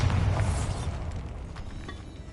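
Bombarda spell blast in the video game Hogwarts Legacy, set inside a tomb: a deep, rumbling boom strongest at the start that slowly dies away into a low, dull resonance.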